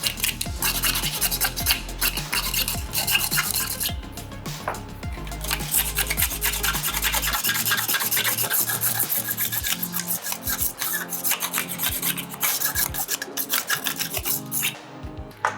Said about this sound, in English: So all we want to do with a scraper is just go ahead real firmly and start removing those burrs